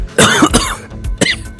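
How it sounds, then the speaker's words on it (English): A person coughs at close range, a few harsh, throaty bursts with short gaps between them, ending in a rasping clearing of the throat. "I made myself cough."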